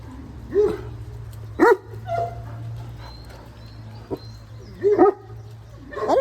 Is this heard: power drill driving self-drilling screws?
no